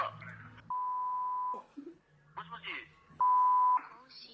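A phone is dialed with two sustained touch-tone beeps separated by brief, muffled bursts of voices, all heard close and clear in a news report about prank calls to Fukushima businesses.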